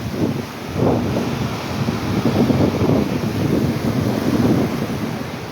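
Kushiyara river water rushing through a sluice gate into a wetland, a dense, steady roar of churning water with gusty wind buffeting close by and no talk.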